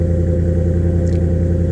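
A 2017 Ford F-150 5.0 V8 idles loud and close after a cold start on a roughly 50-degree day, its stock exhaust fitted with a Flowmaster 50 Series muffler giving an even, deep rumble throughout.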